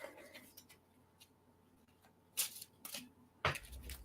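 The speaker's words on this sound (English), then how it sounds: "Gonna shuffle these cards." Tarot cards being shuffled by hand, a few quiet papery riffles and soft slaps in short bursts, close and faint against a hushed room.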